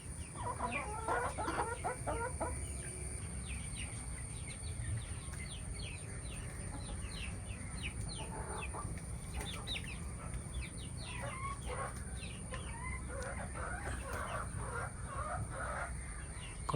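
Chickens in a farm coop clucking and chattering in repeated short bursts over a steady background hum, several birds at close to middle distance, with no talk.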